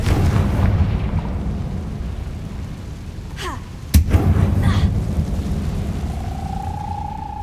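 Bombarda and Confringo blasts in Hogwarts Legacy: a sharp, loud explosive crack rising out of a steady low rumble of game ambience, followed by a brief rising magical whine.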